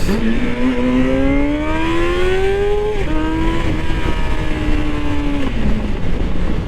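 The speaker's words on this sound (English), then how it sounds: "I fucking love the sound of this bike, man. The fucking exhaust I put on it is amazing." A motorcycle with an aftermarket exhaust revs up through the gears with a deep, throaty exhaust note, close and loud, the pitch climbing, dropping at a shift, then easing off.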